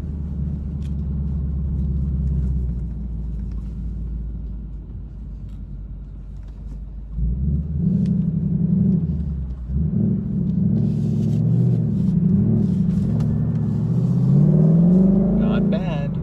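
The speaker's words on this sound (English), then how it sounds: "here's my first hill stop with the new clutch spring." Ford Mustang GT with a new clutch pedal spring making a hill start: a low engine idle, then a rise in rumble as it pulls away and builds revs. It is heard up close from inside the car.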